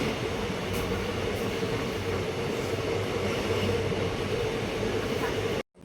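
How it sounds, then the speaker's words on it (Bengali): The Sealdah–Jangipur Express runs nonstop from Barrackpore toward Naihati, a loud, steady rumble of wheels and carriages heard from on board that cuts off abruptly at the end. "ব্যারাকপুর ছাড়ার পরে আমাদের এই ট্রেন ননস্টপ রান করবে নৈহাটি অবধি"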